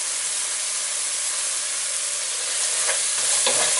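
Chopped tomatoes and salt stirred through hot oil in a pan give a steady broad sizzle and hiss, with a few light scraping strokes near the end.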